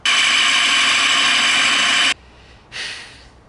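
A 4-inch hole saw bites into 1/4-inch steel pipe, a loud continuous grinding whine for about two seconds, then a pause and a shorter burst that fades out.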